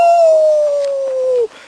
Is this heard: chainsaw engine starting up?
no